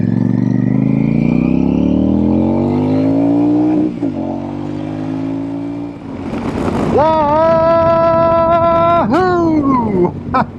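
Royal Enfield Super Meteor motorcycle engine revs loudly and close, climbing steadily through the gears, dipping briefly, then blipping to high revs twice with sharp drops between.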